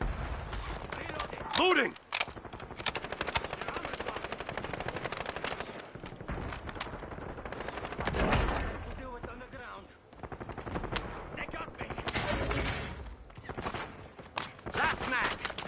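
Heavy automatic gunfire in the video game Warzone rattles almost nonstop in dense bursts, with brief lulls and a player shouting over the din.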